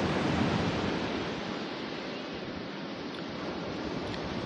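Strong ocean waves at a La Union beach make a broad, steady roar of surf, loudest at the start and easing slightly, with wind buffeting and no talk.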